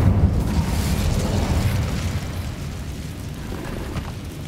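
Incendio fire spell cast in Hogwarts Legacy, a loud, dense whooshing blast with a heavy low rumble that swells at once and then settles into a steady burning roar.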